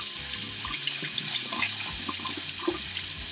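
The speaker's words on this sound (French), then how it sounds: "je prends de l'eau, là et je renverse tout simplement le tout dans la passoire" Water pours from a tap over harvested tomato seeds into a colander, a steady close splashing rush for a few seconds.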